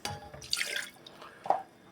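Water poured into a pot while making choux pastry dough for profiteroles, heard as a few short splashing, dripping bursts close by, with a louder splash near the end and no talking.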